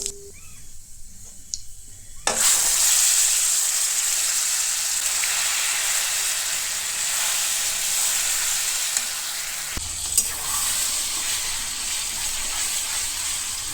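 Black cumin seeds hit a small amount of hot oil in a pan with a sudden loud sizzle that settles into a steady, bright frying hiss, with a small crackling flare near the end, close up and without voices.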